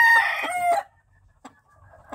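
A pavita rooster of a fine gamefowl cross with a comb crest crows once, loud and close, its call cut off sharply, followed by faint clucks and quiet farmyard sounds.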